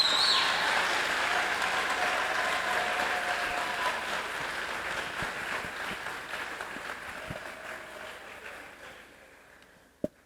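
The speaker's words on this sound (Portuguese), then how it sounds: "Uma salva de palmas para nós," An audience at a university lecture by the King of Bailundo at the Catholic University of Angola in Luanda bursts into sustained applause, a dense clapping wash that slowly thins and fades over about ten seconds, ending with a single sharp knock.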